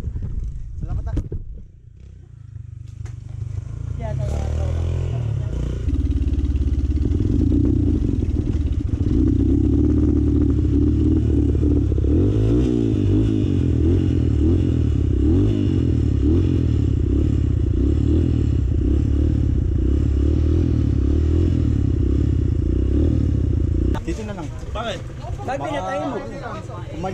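A Honda XR200 enduro motorcycle engine runs steadily at idle for most of the stretch on a trail ride, a loud continuous rumble with some clatter, while people talk nearby over it.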